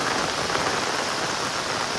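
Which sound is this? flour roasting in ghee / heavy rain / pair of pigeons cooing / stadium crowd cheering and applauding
heavy rain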